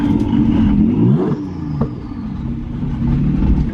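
A twin-turbo Nissan 370Z engine revs hard, its pitch sweeping up and down in loud, throaty bursts before settling into a steady, rumbling idle.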